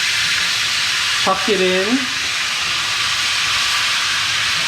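Roast beef sizzles and hisses in a hot skillet with a good depth of fat as the joint is turned over, a loud, steady frying hiss with a brief spoken phrase partway through.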